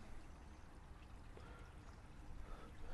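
Water poured onto the soil around a newly planted bare root fruit tree, a quiet continuous splashing trickle with slight swells, heard alone without talk.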